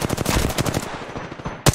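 Rapid automatic gunfire from Apex Legends, loud and near, rattling in a dense burst for most of the clip before tapering off, then one more sharp shot near the end.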